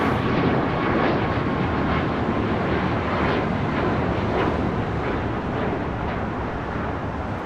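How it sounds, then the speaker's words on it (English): Steady, loud roar of jet airliners at LAX airport, where Airbus A380s are pulling up to the gates, a continuous broadband rumble with wind buffeting the microphone and no talk. "having two A380 Supers pulling up to the gates at pretty much the same time"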